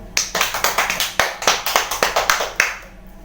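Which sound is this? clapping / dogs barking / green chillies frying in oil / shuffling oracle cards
clapping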